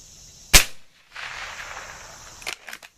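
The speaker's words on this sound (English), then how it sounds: "Sounds like a 22 going off." One sharp, close air rifle crack from a dieseling shot, like a .22 firing, rings out, followed by a soft hiss and a couple of faint clicks.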